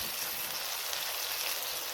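Green chillies roasting in a hot pan, a steady close crackling sizzle that continues evenly throughout without pause.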